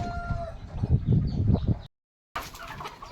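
A young native country rooster, kept in a backyard flock and only about two weeks into crowing, calls out in a loud, rough, uneven crow close by. A short silence follows, then more farmyard noise resumes.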